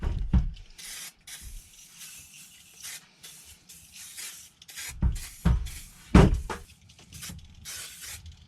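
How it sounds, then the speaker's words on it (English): WD-40 sprayed onto a reassembled bank of four motorcycle carburetors: several short, close aerosol hisses of varying length, the strongest near the end, with faint handling noises between bursts. "You just saw I put a load of WD-40 on it."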